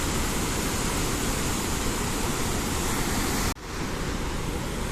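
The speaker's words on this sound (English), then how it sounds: "This is Indravati river." Steady, loud roar of the Indravati River at Chitrakote Falls, India, rushing continuously, with a brief dip in the sound near the end before it resumes.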